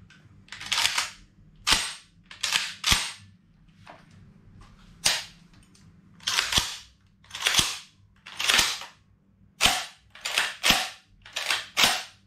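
Steel action of a Beretta 303 gas-operated semi-automatic shotgun being worked by hand, a series of sharp, loud metallic clacks close up, spaced irregularly with short pauses between them.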